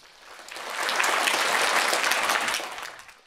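Audience applause at a Roma children's music festival, Chavorikano suno 2025, in Skopje: a dense burst of clapping that swells in, holds steady for a couple of seconds and fades out, with no talk over it.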